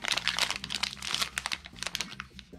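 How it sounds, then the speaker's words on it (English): A 2020 Topps Update baseball card pack wrapper is torn and handled close up, giving a busy run of crisp crinkles and crackles that stay steady and then thin into scattered rustles. "we're just gonna open up a couple packs right now"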